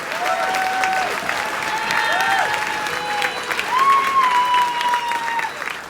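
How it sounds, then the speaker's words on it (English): An audience at a school staff recognition gives loud, sustained applause, a continuous dense roar of clapping with a few thin whistles or tones riding over it, swelling slightly toward the end. "Let's give these individuals a big round of applause for all the hard work and dedication with our students."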